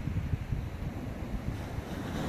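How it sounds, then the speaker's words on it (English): Waves wash onto a quiet beach while wind buffets the microphone, a continuous low rushing roar with gentle surges, close and steady. "This is the Chris Christie Beach."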